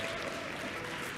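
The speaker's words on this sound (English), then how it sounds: "Let's give Kone a big round of applause as she comes up." Audience applause for a speaker walking up at an early childhood development event, a steady, dense round of clapping filling the whole moment without pause.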